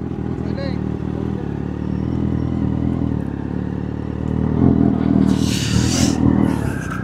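A Kawasaki Z800 special edition motorcycle with a Yoshimura exhaust rumbles at idle nearby, its engine note rising slightly toward the end, while people talk over it.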